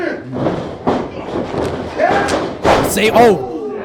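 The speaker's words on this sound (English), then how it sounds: "Knocked him straight back. A huge shoulder tackle. Diego landing hard." A wrestler takes a hard shoulder tackle and lands heavily on the ring at an FSPW wrestling show: loud slams and thuds ring out amid steady commentary and crowd noise.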